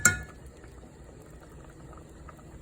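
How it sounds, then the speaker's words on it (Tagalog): Mung bean stew with malunggay leaves, squash and sweet potato tops boiling in a pot, a steady soft bubbling that follows a brief clatter at the start, close and low in level. "pakuluan natin ng ilang minuto"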